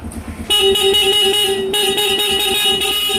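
A Yamaha Sniper 135 Classic motorcycle horn blares loudly and continuously over a running engine idle, a steady buzzing honk held for several seconds.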